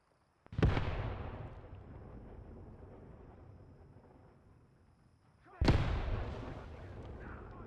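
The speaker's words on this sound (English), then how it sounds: "we've decided to take some mortar here" Mortar rounds impacting in the Graviteam Tactics: Mius Front wargame at Saur-Mogila: two loud, sharp blasts a few seconds apart, each followed by a long rumbling decay.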